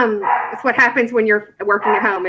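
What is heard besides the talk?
dog barking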